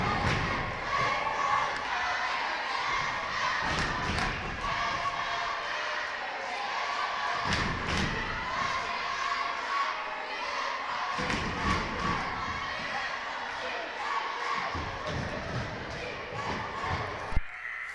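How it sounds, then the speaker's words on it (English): A high school basketball homecoming crowd in a gym cheers and shouts through a cheerleader battle during a timeout, a steady roar of voices punctuated by rhythmic thumps and stomps. "a battle of the cheerleaders, and let's just let you listen to the crowd."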